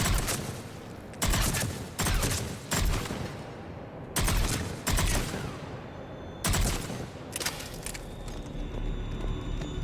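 Gunfire in Mass Effect 3 rips out in repeated loud bursts of rapid shots, separated by short pauses against a steady background hum.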